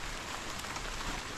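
Steady rain falls over a banana plantation, a dense, even hiss of drops hitting surfaces with no voices, holding constant throughout.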